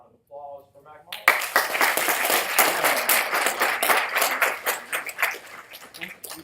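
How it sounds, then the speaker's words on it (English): A crowd in a room breaks into warm applause to welcome a speaker, the dense clapping starting abruptly after a brief voice and continuing steadily, loud and close, before easing slightly at the end. "how about a warm round of applause for Mac Malden?"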